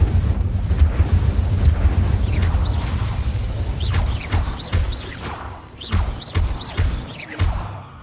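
Incendio fire spell cast in Hogwarts Legacy, a roaring fiery rumble followed by a series of sharp whooshing bursts and thuds, loud and close, repeating in rapid succession.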